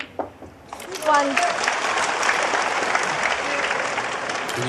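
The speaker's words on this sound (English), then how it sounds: "And you can hear the big cheer from his supporters." Supporters at a snooker semi-final break into loud, sustained applause and cheering that swells up quickly after a brief spoken remark.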